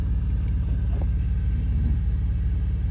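Car passing outside a parked semi truck cab, heard as a low continuous rumble of road traffic that stays steady and moderately loud across the clip with no speech.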